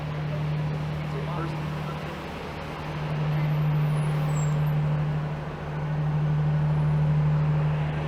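A bus idles in downtown Toronto street traffic, its engine a steady low drone with a faint traffic wash around it, swelling and easing slightly over time; a voice speaks over it.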